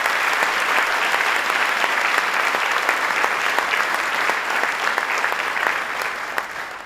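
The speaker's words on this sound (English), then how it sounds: "Let's give him a round of applause, Howard Zemsky." Steady, dense applause from a large audience at a governor's announcement event for a solar factory complex in Buffalo, loud and sustained throughout before tapering slightly at the end.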